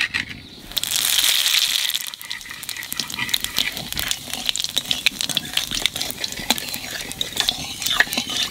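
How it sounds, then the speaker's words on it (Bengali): Roasted spices are crushed with a metal ladle in a kitchen pan, a rapid series of close, sharp scraping and tapping strokes. A louder frying hiss comes just before the strokes, and no one talks. "এটাকে শিল নোড়া লাগবে না, হাতা করেই গুঁড়ো হয়ে যাবে"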